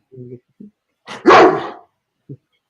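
A dog at a basketball watch party gives a single loud close bark, with brief soft vocal sounds before and after it.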